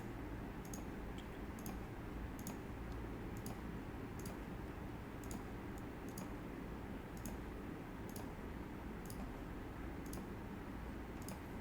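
Computer mouse giving a series of faint, sharp clicks spaced at roughly regular intervals over a steady low background hiss, with no talking.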